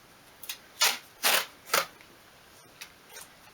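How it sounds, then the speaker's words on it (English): Masking tape pulled off the roll in several short, crackling rips, some longer and louder than others, spaced unevenly and heard close in a quiet room. "then I'm going to grab some masking tape"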